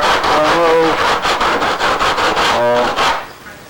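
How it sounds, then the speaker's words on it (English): Folded sandpaper scrubbing away foam on a molded canard, a loud, rapid rhythmic rasping in quick back-and-forth strokes close by, fading out at the end, with a voice partly over it. "I had Misha fold his sandpaper and go in here and remove"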